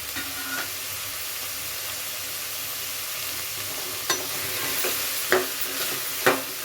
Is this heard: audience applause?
no